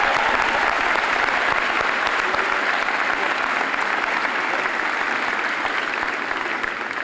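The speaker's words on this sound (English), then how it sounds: "Please give a round of applause for her." High school graduation audience at Midland High giving a sustained round of applause for Ms. Hutchinson, many hands clapping steadily and evenly, easing slightly near the end.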